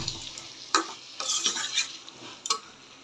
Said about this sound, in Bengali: এখন আলুটা দিয়ে দিব।